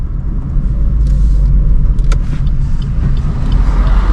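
A car driving in third gear on a lightly trafficked road, heard from inside as a steady low engine and road rumble that holds an even level throughout, with no talking.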